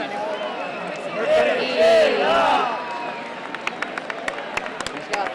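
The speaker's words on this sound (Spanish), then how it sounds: "es un ambiente de continuos aplausos al paso de las pancartas" A street demonstration for a change in prison policy, with a crowd lining both sides as banners pass: a swelling roar of voices and whistles peaks briefly, then gives way to scattered, sharp claps and murmurs.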